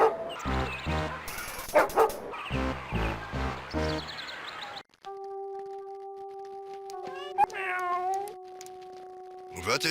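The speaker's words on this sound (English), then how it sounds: "I would not get near that dog if I were you, Jim. It's suffering from rabies." A rabid dog in the 1993 Star Trek Judgment Rites video game gives yelps and whimpering barks amid game sound effects, followed by electronic tones and chirps, with dialogue spoken around it.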